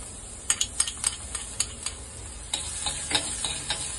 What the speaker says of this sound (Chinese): 咁我哋咧就爆香啲蒜蓉啊